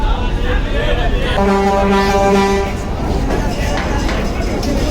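The M Khan 7 passenger launch leaves Barishal ghat with one long, deep horn blast in the middle, sounding over steady river and engine noise and a talking crowd.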